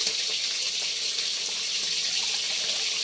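Water pours steadily into a pan of sweet and sour sauce made with pineapple juice, a constant close hissing splash lasting the whole stretch without talk.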